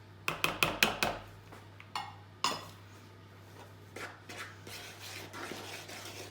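A spoon knocks and scrapes against a bowl as self-raising flour is stirred into brownie batter, with a quick run of sharp clinks at first and softer scraping taps after.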